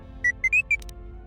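Droid beeping in the video game Star Wars Knights of the Old Republic II: a quick series of four clear electronic chirps and warbles, with a short fizzy burst at the end, over a low background hum.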